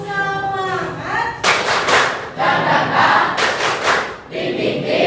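A school class does a rhythmic spirit clap as an icebreaker, bursts of group clapping and chanting in patterned beats, loud and close, with a teacher's voice leading at the start.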